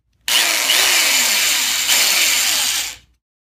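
A power drill bores a screw hole into the body of a Fender Precision Bass. A loud, continuous whine runs for nearly three seconds, starting and stopping abruptly, with no talking.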